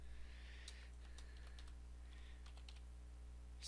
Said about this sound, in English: let's type something down here